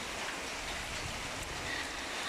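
Steady rain falling outdoors near a house, a dense continuous hiss of drops on surfaces, even and unbroken, fairly close with no voices.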